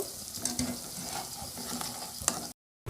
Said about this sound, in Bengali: দেখো পাকোড়াগুলো ভাজা হয়ে গেছে লাল লাল হয়ে এসছে